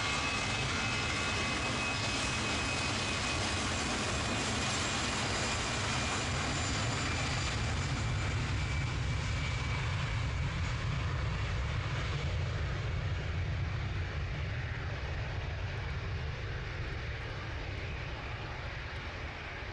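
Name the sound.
Air France airliner taking off, Manchester Airport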